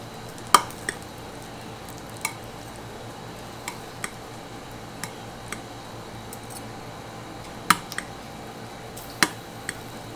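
Two forks turn baking asparagus and bacon on a tray: a handful of sharp, scattered metallic clicks and light scrapes spaced a second or two apart over a quiet, steady background hiss.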